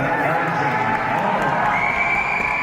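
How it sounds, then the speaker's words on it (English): A raucous crowd at a bodybuilding competition cheers and shouts continuously, a dense wall of voices with whistles rising toward the end. "This crowd is pretty raucous for this division"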